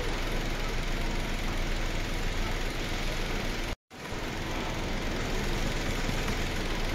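A Kia Sportage engine idles during a full service at a workshop, with a steady, close mechanical hum and rumble that briefly cuts out midway before resuming.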